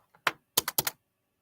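A cordless computer keyboard gives a short burst of crisp keystrokes, one isolated tap followed by a quick cluster of four clicks, close and dry against silence.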